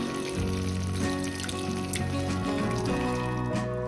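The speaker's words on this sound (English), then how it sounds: "I'm then going to add 3/4 cup of water." Water is poured steadily into spicy pepper chicken gravy in a pan, a continuous close splashing and trickling that runs the whole time without talk.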